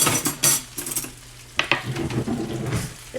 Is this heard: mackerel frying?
yes